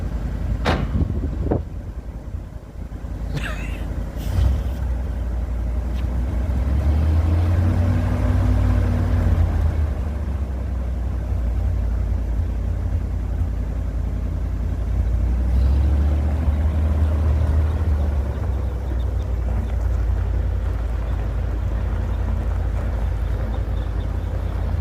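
Old Dodge dump truck engine starting with a few clicks and cranking, then running in a steady, loud low rumble with wind buffeting the microphone and the engine note rising and falling.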